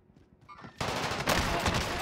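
Gunfire in Call of Duty during big city fights on the Fortune's Keep map erupts after a short, faint lead-in, becoming a loud, dense volley of rapid shots that swells again midway and continues without speech.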